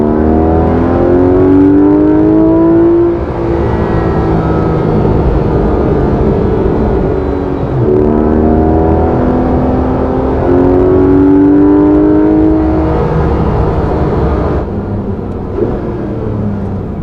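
A Porsche GT3 RS with the PDK gearbox revs hard, its engine note climbing in pitch and then dropping sharply at each lightning-fast gear shift, loud and close, with a continuous roar throughout and no talking.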